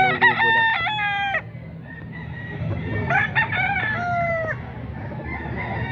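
A Boston Sweater bullstag rooster at an outdoor gamefowl market crows loudly and nearby, then a second crow follows a couple of seconds later over low market background noise.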